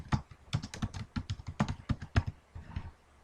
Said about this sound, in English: So we'll just type in my full name